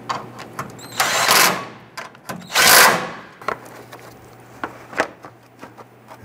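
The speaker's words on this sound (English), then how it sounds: "Tighten down the bolts" Bolts are tightened on a 1994-2004 Ford Mustang AC condenser fan motor: two short, whirring bursts of a power driver, with scattered metallic clicks and taps around them.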